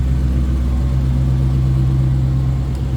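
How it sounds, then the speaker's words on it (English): A 2022 Dodge Challenger Hellcat Redeye Widebody Super Stock idles steadily up close, a deep, even rumble with a strong low hum and no voices. "so you can hear this run at idle anyway"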